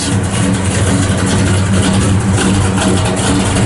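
A 1966 Plymouth Belvedere with a performance cam and full 3-inch exhaust runs loud and close, its engine rumbling steadily at idle with a lumpy, throaty exhaust note and no one talking.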